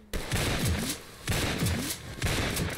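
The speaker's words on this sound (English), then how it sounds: "Where the fuck are you shooting me from?" Rapid automatic gunfire in a multiplayer video game comes in three loud, dense bursts, each around a second long, separated by short gaps.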